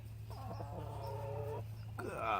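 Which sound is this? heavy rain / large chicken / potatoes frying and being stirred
large chicken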